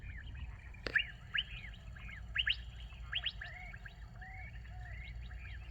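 Electronic bird sound effects on an N scale model railroad layout: varied chirps and short tweeting calls repeat steadily over a low background hum, moderately close and fairly quiet.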